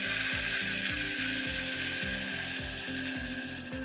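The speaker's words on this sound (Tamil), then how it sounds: "இதை மிக்ஸ் பண்ணி ஒரு 10 நிமிஷம் அப்படியே ஸ்லோ ஃப்ளேம்லேயே வச்சு வதக்கிக்கோங்க" Ground raw masala paste sautés with softened onions in a pan over a slow flame for a spicy mutton thanni kuzhambu. A steady, close hiss of sizzling carries a regular rhythm of low thuds, like stirring.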